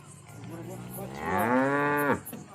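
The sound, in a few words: cow mooing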